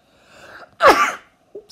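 A single loud, close sneeze bursts out after a faint breathy intake, followed by a brief small sound and quiet.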